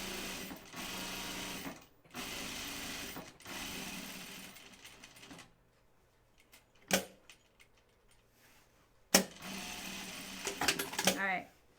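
A sewing machine stitching a seam on a jean skirt, running in short bursts of fast rhythmic whirring with pauses between, loud and close, with a voice talking over part of it.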